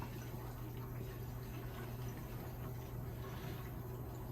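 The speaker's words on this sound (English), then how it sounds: "Let's open up these zone valves. It's a manual. Just to drain." Water drains from the opened manual zone valves of a Weil McLain CGA4 boiler, a soft, steady rushing trickle that runs continuously at low level without talk.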